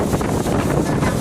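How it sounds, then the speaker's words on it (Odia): Strong wind gusting across the top of the Puri lighthouse in Odisha, a loud, steady roar of air buffeting the microphone throughout, with no talk. "ଏଠି ପ୍ରବଳ ମାତ୍ରାରେ ପବନ"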